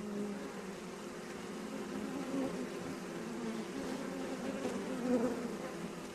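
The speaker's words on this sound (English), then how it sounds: "One would also have to protect one's face and hands from the many aggressive bees." A dense, continuous buzzing of many bees, steady and close, with no voices.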